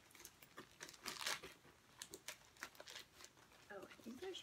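Packing paper crinkles and rustles in irregular bursts while an unboxing is under way, loudest around the middle, with a voice joining near the end.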